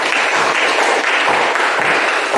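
A classroom of students applauds during an Indonesian-language lesson, a steady dense wash of clapping filling the whole stretch at fairly loud level with no pause.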